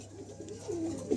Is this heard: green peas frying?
no